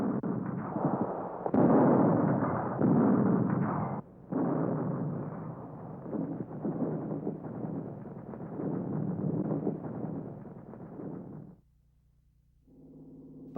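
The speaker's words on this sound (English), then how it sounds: "A quicker method of disposing of the mine menace had to be found, and the answer was simple: blow them up from a safe distance." Mines blown up from a safe distance in wartime combat engineering: a sustained, heavy rumbling roar of blasts, with a sharp new burst partway through, fading after about eleven seconds into faint low noise.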